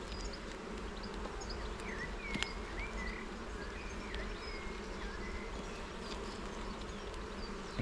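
Honey bees buzz steadily around an open hive during an inspection, a dense continuous drone with individual bees zipping past close by and an occasional faint knock.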